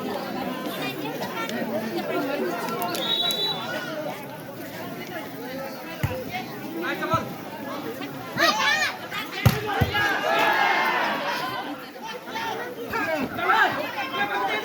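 A crowd at an outdoor volleyball final in Tanse, Nepal, keeps up a steady roar of chatter, hoots and cheers, swelling in louder bursts over the match's background noise.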